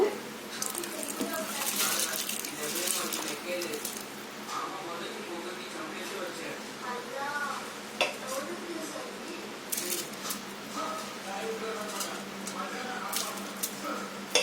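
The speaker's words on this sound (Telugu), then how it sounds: "ఇప్పుడు మనం ముందుగా కడిగి పెట్టుకున్న బియ్యాన్ని వేసుకుందాము." Washed rice is tipped into boiling water for chicken pulao, giving wet, squishy splashing and soft bubbling at moderate volume, with a voice talking over it throughout.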